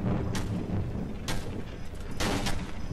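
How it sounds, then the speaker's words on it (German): A wooden door bursting apart in the game Cry of Fear, three heavy cracking blasts over a loud rumbling background, close and harsh. "Plötzlich explodiert einfach die ganze Tür."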